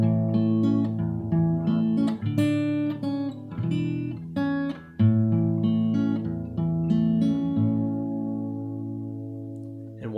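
An acoustic guitar plays the intro of Shoals of Herring in folk fingerpicked style, with sustained bass notes under picked melody and chords, steady and close for about ten seconds with no talking.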